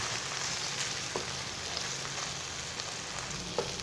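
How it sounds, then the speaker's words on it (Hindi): Minced chicken cooking with tomatoes in a hot pan sends up a steady, dense sizzle and crackle throughout, close and even, with a few faint clicks of a spoon scraping the pan. "अभी टमाटर के साथ इसमें भूनता हूँ ताकि अच्छे से बिल्कुल ये अंदर ही इसके गायब हो जाए।"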